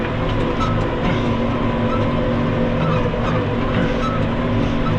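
A Case 115 C tractor drags a heavy 24-disc harrow across a field, its engine a loud, steady, close drone with an even mechanical rumble throughout.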